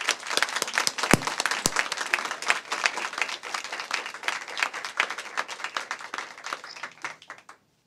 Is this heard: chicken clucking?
no